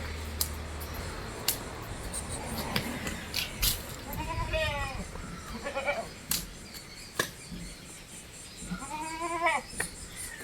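Goats bleat several times at close range among quiet barnyard clatter and a few sharp knocks, with calls coming in separate bursts spread across the scene.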